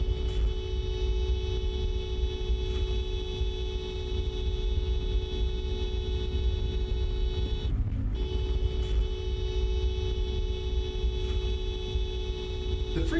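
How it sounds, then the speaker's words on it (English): A car driving, heard from inside the cabin, gives a steady, constant-pitch engine and road hum throughout, with a brief dip partway through and no talking. "Now let's listen to what we hear from inside the car."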